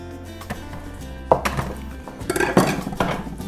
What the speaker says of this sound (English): So we're just roughly chopping these because we're going to put them in the blender.